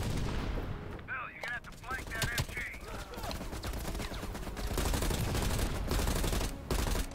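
Loud, dense machine gun fire in Call of Duty: Black Ops Cold War, sustained bursts layered with other gunfire and explosions, with a voice briefly audible over the combat.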